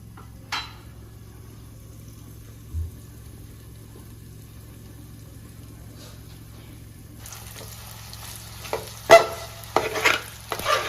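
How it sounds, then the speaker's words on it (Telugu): Egg fries with a garlic and chili mix in a pan: a quiet, muffled sizzle with a couple of soft knocks, then brisker scraping and clinking of a utensil against the pan toward the end. "ఇలా తిప్పుకున్న తర్వాత మూత పెట్టుకొని మళ్ళీ కొంచెం సేపు వేగనివ్వాలి"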